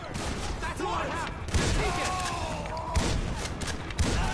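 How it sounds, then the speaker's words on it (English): Gunfire crackles throughout a police shootout in the video game GTA 5, with repeated shots and bursts layered over a loud, busy mix of game sounds, and a voice talks over it. "I don't see them, but they're shooting at me."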